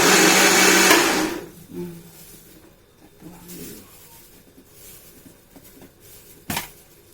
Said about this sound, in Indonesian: Biar nyatu dengan minyak, kita harus blender biar full ya, jangan terlalu kasar, jangan terlalu tinggi.